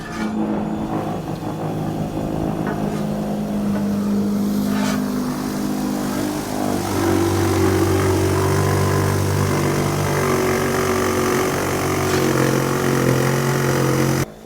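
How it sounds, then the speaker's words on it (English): A Milwaukee snowblower runs at an outdoor power equipment demo, a loud, steady engine drone with shifting tones that holds for the whole stretch without talk. "here we have Milwaukee snowblower. And we're gonna give it a whirl here."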